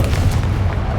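Confringo blasting spell in Hogwarts Legacy detonating with a loud, close, booming explosion that rumbles heavily throughout and carries a crackling burst on top.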